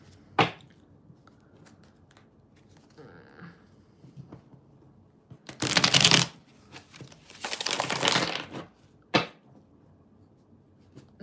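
Tarot cards are shuffled in bursts, with two longer riffling swishes and several short sharp flicks and taps between quieter handling noises, close to the listener with no talk.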